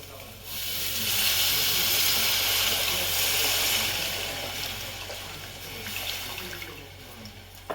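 Tamarind juice poured into a hot pan for traditional pulusu, a broad watery hiss and sizzle that swells then eases, steady and close.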